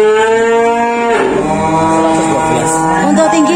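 Simmental cows at a cattle market lowing in long, loud, drawn-out moos, one after another, close by with market background noise.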